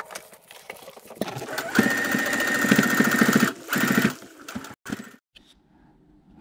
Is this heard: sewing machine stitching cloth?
yes